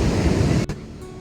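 Loud rushing ocean surf roars continuously on a Los Angeles beach, then cuts off abruptly partway through, leaving a quieter wash of water and wind.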